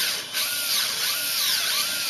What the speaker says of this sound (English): This is a tapered,